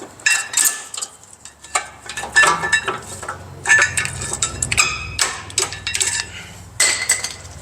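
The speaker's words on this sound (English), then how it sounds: "Now let's go ahead and remove the pads." Brake pads being pulled from a Cadillac Escalade's rear caliper, with sharp metallic clinks and clatters in irregular bursts, close and fairly loud, separated by short pauses of handling noise.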